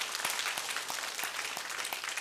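A congregation at a Korean Presbyterian church service applauds in celebration of new members, a steady wash of many hands clapping throughout at moderate distance.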